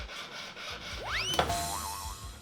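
A brief, quiet scrape of a saw cutting a metal jewelry ring, rising into a thin squeal and ending with a sharp click.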